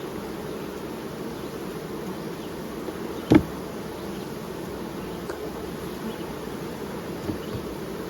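Honey bees buzz steadily at an open hive in hot weather, a dense, continuous hum close by with one brief sharp knock partway through.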